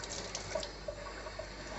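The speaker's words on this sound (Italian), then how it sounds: "Questa è l'acqua, cerco di regolarla per non far danni alle radici" Tap water runs steadily while being adjusted to the right temperature for wetting the roots of a Paphiopedilum orchid during repotting into coconut fibre, a soft continuous splashing flow with no talk.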